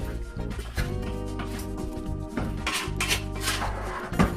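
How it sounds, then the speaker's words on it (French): Marinated pork is mixed in a pot without added oil, producing close metallic scrapes and clinks of a utensil against the pot over a steady tonal hum. "Vous mélangez bien pour que la marinade puisse prendre partout."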